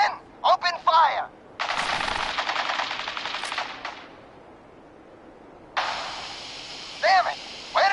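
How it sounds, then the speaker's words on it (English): Automatic gunfire rattles in Fallout 4 in two loud bursts of rapid shots. Sharp single reports and shouted voices break in around the bursts, with a quieter gap between them. "Men, open fire."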